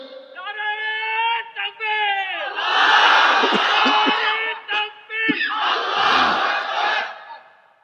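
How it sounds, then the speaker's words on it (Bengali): A large crowd at an Islamic religious gathering roars a takbir chant, one voice calling out before the mass of voices answers in loud, repeated swelling shouts. "দেখি মাঝখান থেকে দাঁড়িয়ে একজন তাকবীর দেন তো দেখি।"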